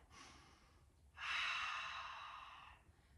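During a gentle beginner yoga flow, a short inhale is followed by a long, audible exhale that rises abruptly and then fades gradually, close and soft against near silence.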